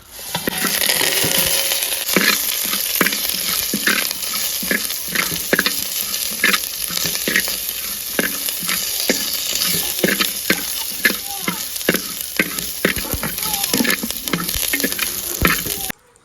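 Coriander seeds, cumin, urad dal and onion fry in a pan for a village-style cucumber sambar, a constant dense sizzle with regular spoon-stirring scrapes and taps throughout, close and moderately loud, with no talking.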